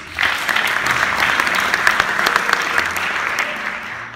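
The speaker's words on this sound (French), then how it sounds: "que vous pouvez applaudir" Audience at a close-up magic competition applauds, a fairly loud, even burst of clapping that swells then eases slightly toward the end.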